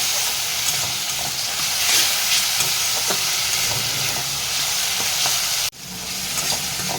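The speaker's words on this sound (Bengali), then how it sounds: "টমেটোটা ভালো করে কষিয়ে নিচ্ছি" Tomato and onion frying in a pan for a Bengali tilapia fish curry, a loud continuous close sizzle with faint stirring scrapes, briefly cut off near the end before resuming.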